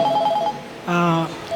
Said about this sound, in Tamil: இப்போ ஃபோன் அடிப்பாங்க